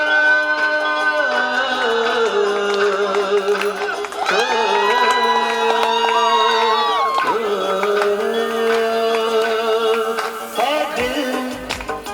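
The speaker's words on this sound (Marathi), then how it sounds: "जोरात आवाज आला पाहिजे टाळ्यांचा" Crowd noise with cheering from an audience at a sangeet wedding performance, loud and continuous throughout, with music-like tonal sounds and voices mixed in.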